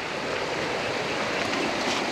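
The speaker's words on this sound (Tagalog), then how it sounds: "Dito kami namaybay sa tabing ilog mga kapatid." River water flows past a riverbank near vegetable farmland, a steady, even rushing wash that holds at constant moderate loudness throughout, with no voices or other sounds standing out.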